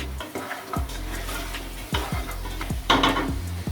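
Spoon scraping and stirring ground turmeric in a hot pan on medium flame, with repeated metallic clinks against the pan over a soft sizzle, close and loud.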